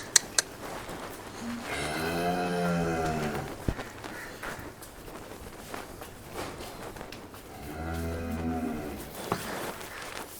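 Freshly calved dairy cattle moo in two long, deep, drawn-out calls a few seconds apart. They sound fairly close, with faint footsteps and shuffling in between.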